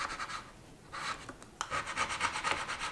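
A guitar fretboard being scraped clean of built-up grime, giving repeated short rasping strokes up close, in bursts with a brief pause partway through and no talking.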